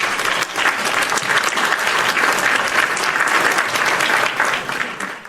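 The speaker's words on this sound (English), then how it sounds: "Hit my hand claps." A steady burst of hand-clap applause played as a sound effect, dense and loud for several seconds before tapering slightly at the end.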